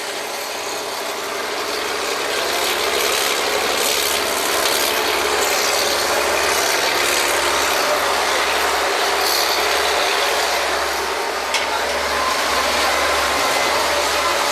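Engine on a drilling rig's draw works, a steady loud mechanical roar with a low rumbling drone and constant rattling texture, running continuously without a break.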